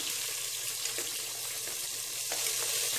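Onions frying in oil with whole spices such as cloves for tomato rice, a steady soft sizzle and crackle holding evenly throughout with no talk.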